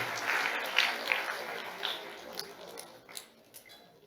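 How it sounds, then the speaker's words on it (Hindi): Sparse, fairly faint clapping from an audience honouring a prize winner at a youth parliament event in Bhagidari Bhawan, with scattered claps fading unevenly over a few seconds. "एक बार जोरदार तालियां बजाकर"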